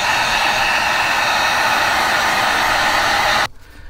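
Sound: heat gun heating sanded EVA foam

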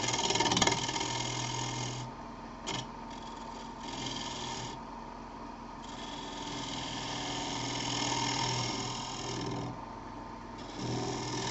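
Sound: wood lathe turning a yarn bowl with a bowl gouge

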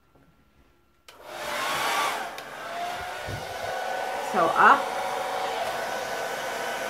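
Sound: blow dryer drying resin pour

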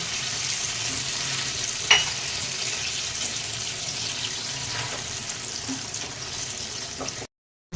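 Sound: water and lemon juice poured into hot dhokla tempering

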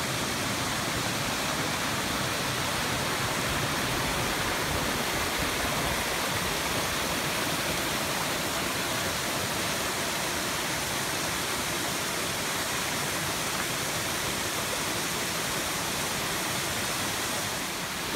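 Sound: river flowing over rocks in Lehigh Gorge

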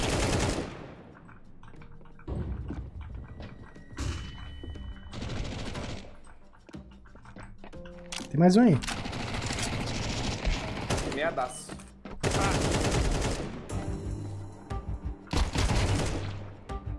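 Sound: gunfire in a video game

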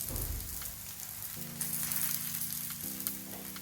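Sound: thalipeeth roasting in ghee on a pan

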